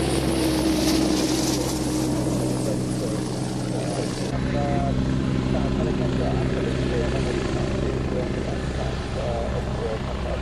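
Royal Navy Wasp helicopters from a frigate fly overhead during the Falklands campaign, a steady loud rotor and turbine drone running throughout, its tone shifting partway through, with faint voices in the background.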